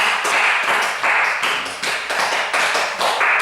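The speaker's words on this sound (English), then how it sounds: "Could we have some applause?" Audience at a scratch DJ performance clapping in short bursts, a bright, slightly irregular patter that stops and restarts several times.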